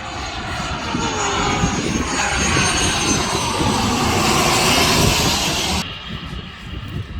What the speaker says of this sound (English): we're going to the best lookout to see the planes